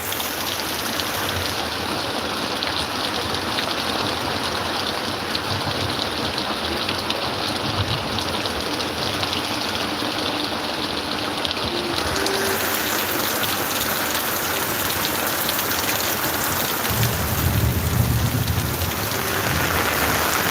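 Heavy rain pours down steadily in a village during a storm, a dense, continuous hiss of drops pounding surfaces that stays loud and even throughout, with no voices.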